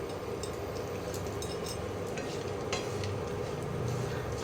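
Food frying and being stirred in a frying pan: a soft, steady sizzle with light scraping and clinking of a utensil against the pan throughout, fairly quiet and without voices.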